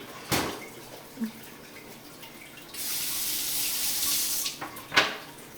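Tap water running into a kitchen sink while rice and pigeon peas are being cooked, a soft splashing hiss that swells for a couple of seconds, set between faint knocks and clatter at close range, with no talk.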